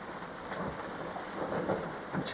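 A storm at sea lashes a sailing boat with steady heavy rain, a continuous broadband roar of wind and water, with occasional low rumbles of thunder and spattering bursts, loud and close throughout.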